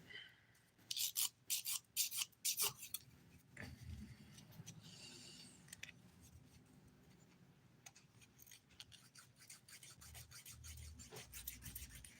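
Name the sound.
nail file smoothing chunky glitter nail, 180 grit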